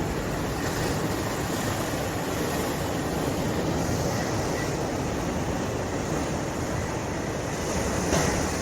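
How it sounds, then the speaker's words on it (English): A constant loud roar of surf washing onto a rocky shore at Kovalam, a dense unbroken rush of ocean water with no voices. "the sounds of the waves and the expansive ocean right in front of us"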